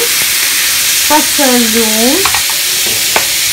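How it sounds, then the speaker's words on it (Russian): Meat frying in a pan gives a loud, steady, close-up sizzle with occasional stirring scrapes, and a voice speaks briefly over it. "Все, теперь мясо на сковородке. Сейчас я его немножко обжарю"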